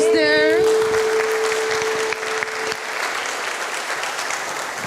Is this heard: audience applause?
yes